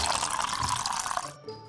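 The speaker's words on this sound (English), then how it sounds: "Let's pour some milk." Milk pours into toy-play cups in a short, steady splashy stream that cuts off near the end, close and fairly loud with no talk over it.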